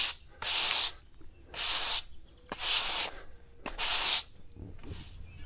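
Colour stain sprayed onto a cantilevered broken-stone edge in four sharp hissing bursts of about half a second each, evenly spaced, followed by a fainter fifth burst, close and loud against quiet gaps.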